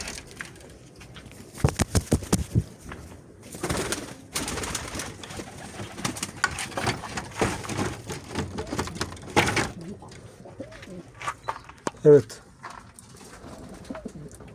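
Soft coos of a pigeon, an Arab breed, come and go amid handling noises, rustling and brief bumps, with a sharper call near the end; close and fairly quiet.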